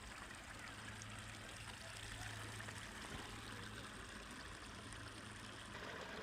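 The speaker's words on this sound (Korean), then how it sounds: "그 옆에 인공개울이 흐르고 있습니다." An artificial stream flows beside a flower garden at Suncheon Bay National Garden, giving a steady, even wash of running water with a faint low hum underneath, no clear voices on top.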